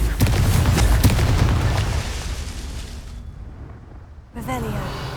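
A Confringo fire spell explodes in the Hogwarts Legacy video game, giving a loud booming burst with a rumbling tail that fades over several seconds before a second, smaller burst of game effects.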